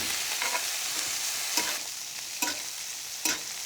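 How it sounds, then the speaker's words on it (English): Butter and thyme sizzle in a hot pan beside a ribeye steak, a steady frying hiss with a few sharp pops and stirring scrapes standing out, close and alone with no talk. "That nice sizzle and pop of thyme is a lovely sound."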